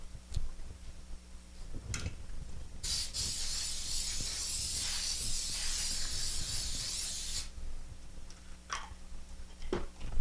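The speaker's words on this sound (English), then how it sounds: "I'm going to spray it with the Pam spray with flour." A steady aerosol hiss of Pam cooking spray with flour onto a pan, lasting several seconds, close and fairly loud, with faint clicks and taps of handling before and after.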